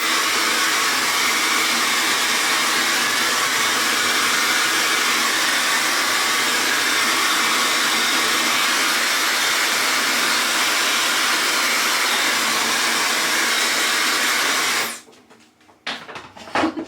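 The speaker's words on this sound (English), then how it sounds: "I just blow dry my face." A hair dryer blows loudly and steadily up close for a long stretch, then cuts off, leaving brief faint handling noises.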